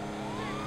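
A video game police car siren in GTA V, wailing and rising in pitch, loud and continuous over a dense rumble of traffic noise.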